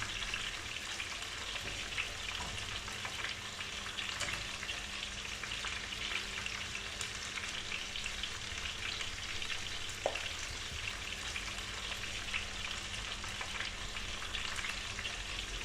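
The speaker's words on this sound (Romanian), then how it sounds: "Am pus o cratiță pe foc în care punem uleiul și așteptăm să se încingă. Apoi punem bucățile de cocoș." Pieces of country rooster fry in hot oil in a pot, giving a steady, dense sizzle that runs unbroken from start to finish with no voices.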